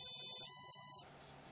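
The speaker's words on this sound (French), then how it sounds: "Une série de 4 bits pour nous dire qu'on est en mode calibrage." A drone ESC connected to a KK2.0 board sounds calibration beeps: a held high-pitched electronic tone with slight pitch steps, cutting off after about a second to near silence.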